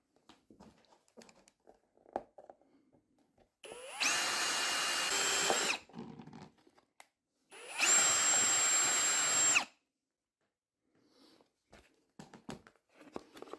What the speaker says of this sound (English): I'm going to drill straight into my table, aren't I